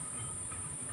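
A train rolls past a nearby railway gate crossing, giving a steady, continuous rumble with a hissing high edge that holds at an even level for the whole second, with no voices over it.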